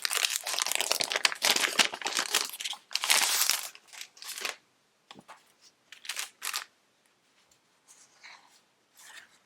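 A cardmaking paper pad for fall cards is handled, with crisp crinkling and rustling of the sheets in loud bursts, then quieter, sparser rustles toward the end.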